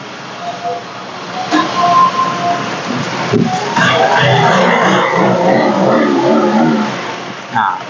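A GPX Drone motorcycle, repaired after a no-start fault with no spark and no fuel delivery, runs with a steady, fairly loud engine rumble that swells after a few seconds and holds for the rest of the clip.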